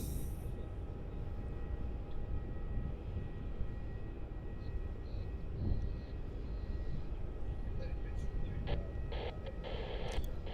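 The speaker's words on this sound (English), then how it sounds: "we got a Jetstar A320 landing on runway 16" An older, non-Neo Jetstar Airbus A321, flight JQ567, landing on runway 16 at Melbourne Airport, a low continuous engine rumble at a distance, with radio chatter crackling in over the roar.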